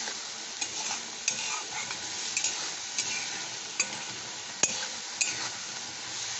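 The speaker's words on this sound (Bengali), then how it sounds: "এটা একটু জল দিয়ে দিলাম, ভালো করে কষে নিচ্ছি।" Spices being sautéed and stirred in a pan with a splash of water added, giving a steady close sizzle with scattered spoon scrapes and clinks throughout.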